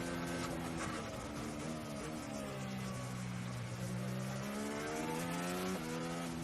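A Formula 1 car engine during the 2017 Singapore Grand Prix, heard through the airbox above the driver's head, a continuous high-pitched whine rising and falling through gear changes, steady and faint.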